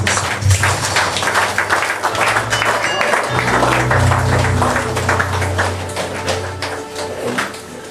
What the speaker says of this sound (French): Acclamons son excellence.